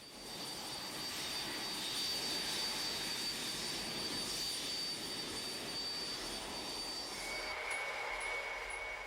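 A converted jet engine blasts snow and ice off an airfield, a steady loud roaring rush with a high whine, continuous throughout with no talk.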